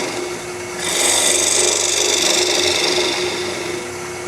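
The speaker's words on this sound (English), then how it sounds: "So I'm going to use my gouge. I'm going to slowly make these cuts." A hand gouge cutting into a spinning ambrosia maple jar on a lathe, starting with a low hum and then shifting into a loud, steady rasping scrape that holds for several seconds without talk.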